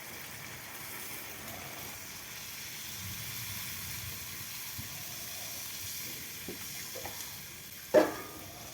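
Hot water goes into a pan of sautéed duck curry, giving a soft, steady hiss of steam and faint sizzling that runs through, ending with a sharp clink of a utensil near the close.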